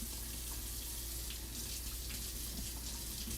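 Tap water runs steadily into a sink to rinse fresh garden basil, a close, constant splashing hiss with no voices.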